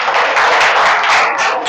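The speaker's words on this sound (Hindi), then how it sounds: "सलोनी के लिए जोरदार तालियां हो जाए" Applause for a prize winner at a children's banana competition game, a dense wash of many hands clapping steadily and close, with no voices over it.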